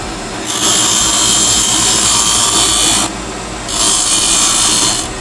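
A wood-turning chisel used for cutting chess pieces is sharpened in two loud, sustained grinding passes with a short pause between, a harsh hiss over a low motor hum, close and without talk.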